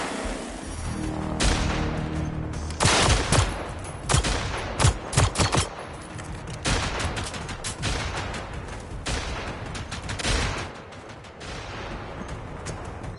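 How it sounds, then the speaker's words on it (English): Machine gun fire in the video game Generation Zero, with repeated loud automatic bursts and booming impacts over a dense, continuous game soundscape. "he has a magical machine gun on"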